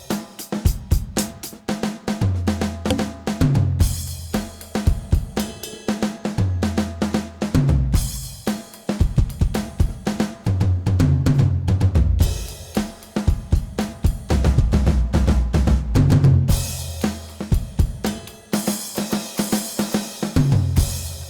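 A drum kit plays a fill in which beat four carries three quick sixteenth-note strokes. The pattern repeats in several loud, close variations with crashing cymbals and punchy toms, and no talking over it.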